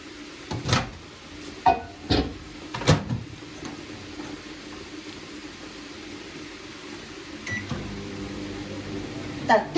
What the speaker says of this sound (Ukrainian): І зараз я його закладаю у мікрохвильову піч.